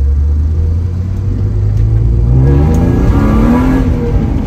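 A BMW E36 328i with a manual gearbox accelerates along a country road, its engine note rising steadily from a low drone to a higher pitch, loud and close, with a constant rumble throughout.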